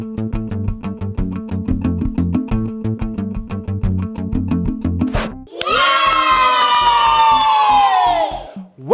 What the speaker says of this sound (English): Now we are ready to cheer for our friends.